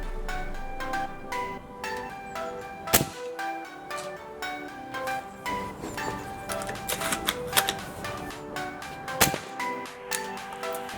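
An airsoft gun fires repeatedly at eye protection, producing a rapid series of sharp, close snapping shots and impacts with a few louder cracks standing out.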